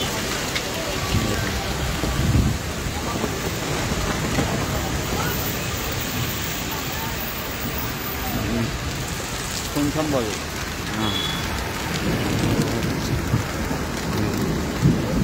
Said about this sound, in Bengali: দেখুন প্রচণ্ড ঝড়ে বেগে ঝড় হচ্ছে।